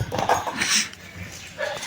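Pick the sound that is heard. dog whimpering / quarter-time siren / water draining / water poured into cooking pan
dog whimpering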